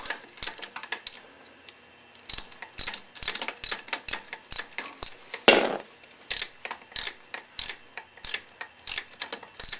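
A hand ratchet loosening a bolt at the front of a BMW F650GS motorcycle, a rapid series of sharp, close clicks in bursts with brief pauses, alone with no talking.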